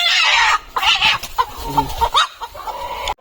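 Hens on a poultry farm cluck in short, uneven bursts close by, with a few softer murmuring calls between louder squawks, one hen brooding on a clutch of twelve eggs.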